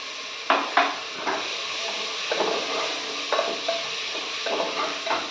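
Mutton sizzles and scrapes in a pan with a steady frying hiss, punctuated by a few sharp clinks and scrapes of a spoon stirring against metal.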